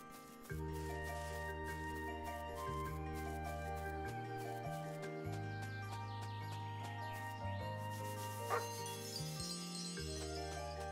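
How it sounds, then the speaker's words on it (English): A dog in the game Chained Echoes barks and whimpers in short yelps over a steady music loop with sustained tonal notes and light jingling, the animal sounds faint beneath the score. "Puppy dog."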